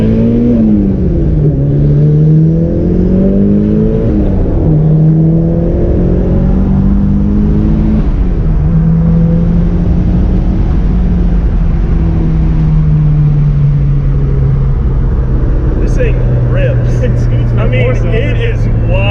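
A turbocharged Nissan Skyline with a new turbo, engine pulling hard and spooling up loud and close in a long rising then falling drone through gear changes, while people talk inside the car.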